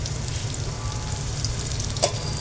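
Ginger garlic paste frying in oil for a pabda fish dish, a steady close sizzle with a low hum and one brief clink of a utensil, with no voices.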